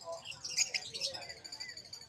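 Small caged birds for sale at a pet market chirp in quick, high tweets, faint and close, with a short burst near the start and then scattered softer calls.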